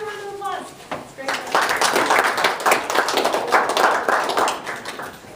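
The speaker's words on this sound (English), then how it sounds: "So let's just start with a round of applause." A voice trails off, then a school audience breaks into applause, moderately loud rapid clapping that swells and continues steadily to the end.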